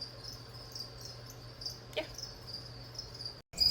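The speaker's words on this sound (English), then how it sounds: "I will show you some hatching baby crickets just to prove that I get pinheads" Crickets bred in home incubators chirp in a steady high repeating trill through the whole stretch, close and moderately loud, with a brief word spoken and a short thump near the end.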